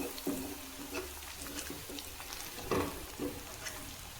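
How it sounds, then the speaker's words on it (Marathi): Wet ground spice paste with cumin seeds frying in a pan for methi masala, a steady sizzle with periodic scraping and stirring sounds, close and clear with no talking. "वाटण चांगलं तळेपर्यंत"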